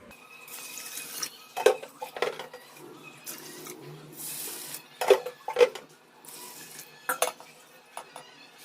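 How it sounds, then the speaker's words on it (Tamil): Rice being swished and rinsed in water in a metal pot before soaking, with scattered clinks and splashes at an uneven pace, close by. "அரிசியை நல்லா களைஞ்சிட்டு நல்ல தண்ணி ஊற்றி வச்சுட்டிங்கன்னா"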